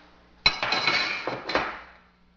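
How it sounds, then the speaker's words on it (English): Metal parts clink and clatter close by as the recoil spring assembly is pushed in and pulled out of an AK-47 rifle, a brief rattle lasting under two seconds. "You can push this in and remove the recoil spring."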